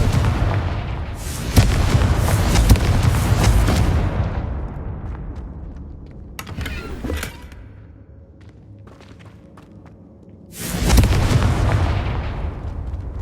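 Confringo blasting curse in Hogwarts Legacy: long, loud rumbling fiery blasts that roar for seconds, a quieter lull with crackles and thuds in the middle, then another big booming burst near the end, no talk.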